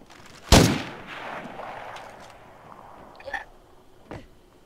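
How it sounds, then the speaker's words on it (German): A single loud, close gunshot with a long echoing tail rings out in the zombie-survival video game State of Decay 2, followed by two fainter, more distant shots a few seconds later. "Wo schießen die denn drauf?"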